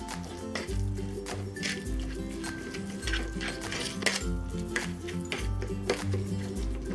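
Minced pork being mixed with white pepper, sesame oil and Shaoxing wine in a bowl, with rhythmic clinks and scrapes of a utensil against the bowl, close and fairly quiet.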